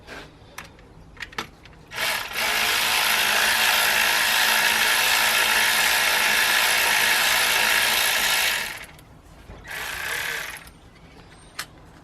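A ratchet spins out the single 6mm Allen bolt holding the idler pulley on a BMW M47/M57 diesel engine, making a loud, fast continuous clicking whir for about six seconds, then a shorter burst, with scattered tool clinks around it.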